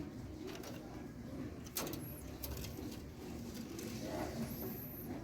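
African birds in a cage with their nest give faint, sparse chirps and soft cooing calls over a quiet room background. No one speaks.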